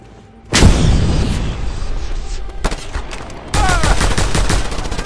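Loud, dense gunfire and explosions in Just Cause 2, a heavy blast followed by continuous rattling automatic fire, a brief lull, then another sustained barrage of shots and booms.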